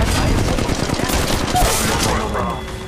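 Rapid gunfire in the Apex Legends Mobile video game, a dense, loud burst of repeated shots that fades slightly toward the end, with no talking.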